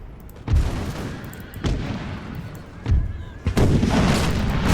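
Four heavy cannon volleys from a Napoleonic-era strategy battle in the Imperial Splendour campaign, booming at roughly one-second intervals, then a sustained rumble of continuous fire as the exchange thickens.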